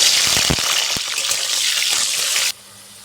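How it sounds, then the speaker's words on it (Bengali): Salted bitter gourd fries in hot oil, a bright, dense crackling sizzle with a few sharper pops, close and steady until it cuts off abruptly near the end. "আমার তেলটা গরম হয়ে গেছে নুন মাখিয়ে রাখা উচ্ছেগুলো ভেজে নেবো"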